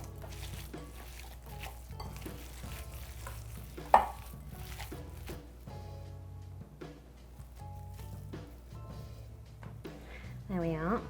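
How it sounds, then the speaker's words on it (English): Meatball mixture with egg is squished and worked by hand, giving wet, sticky squelches in an uneven rhythm, with one sharp tap partway through and a voice talking over it. "Really mix it all up well, get all the egg pushed through, make sure it's nice and even."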